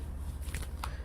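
A heavy tarot card deck is shuffled close by, giving a soft riffling rustle with two brief brighter flutters over a steady low background hum.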